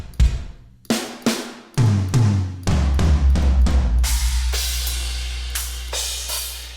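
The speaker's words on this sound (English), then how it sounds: "I built out a drum set in Modern and Massive that I actually have titled Country Boy." A big virtual drum kit titled Country Boy, built in Modern and Massive for country music, plays a sparse pattern of loud punchy hits that builds into a steady groove and ends with ringing cymbal crashes.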